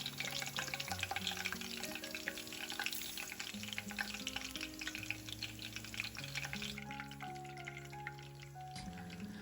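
Pork for sisig fries in a hot pan, giving a steady, close sizzle that runs without a break under background music with sustained tones.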